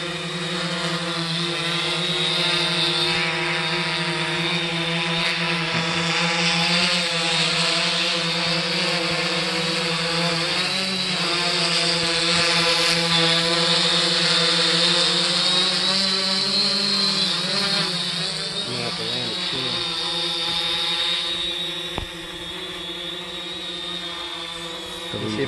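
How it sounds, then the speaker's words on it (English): A 3DR Solo quadcopter drone fitted with upgraded Emax MT2216 motors hums with a steady multi-tone whine throughout, its pitch shifting slightly as it holds and maneuvers, fairly loud and close with no talking. "Definitely much quieter. Much more smoother."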